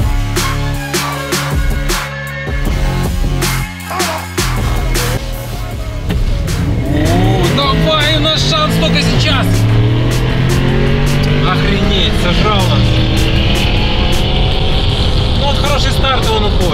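A Tesla Model 3 Performance rated at 450 hp accelerates hard, its rising electric whine sweeping upward over road and tire roar, with people talking inside the cabin throughout.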